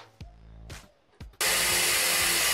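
A few short knocks and taps, then a loud, steady power drill whirs continuously at close range until the end, drilling a fridge slide in a camper trailer.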